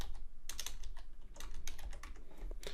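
Rapid typing on a computer keyboard while working in Altium Designer, a steady run of close, crisp key clicks with brief pauses and no voices.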